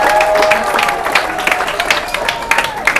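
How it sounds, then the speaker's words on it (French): Audience applause at a forum in honour of the organizers, a steady wash of clapping with scattered louder claps, heard over murmuring voices and a held vocal tone. "je souhaite qu'on l'applaudisse"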